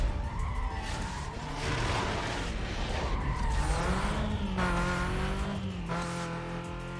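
Pizza delivery car in Need for Speed Most Wanted, its engine droning steadily with rising and falling revs while tires repeatedly squeal and skid, loud and continuous without any talk.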